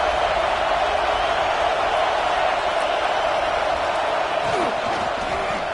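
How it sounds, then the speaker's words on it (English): A large stadium crowd in a college football video game roars steadily as a dense, loud wash of cheering with no breaks, behind a faint voice. "the crowd really making some noise now, trying to help out this defense"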